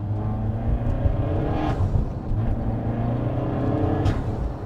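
A Peugeot 308 GTi laps the Castle Combe circuit on cold tyres, its engine droning loud and steady from inside the car as revs rise and fall.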